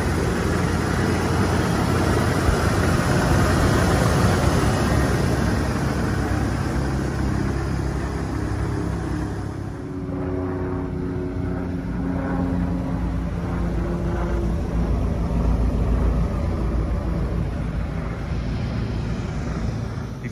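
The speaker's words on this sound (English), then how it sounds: "It's that big 460 cubic inch V8. Idles smoothly." A 1992 Ford F-250 XLT 4x4 with a 460 cubic inch V8 idles steadily, a continuous low engine rumble with outdoor wind noise, no talking.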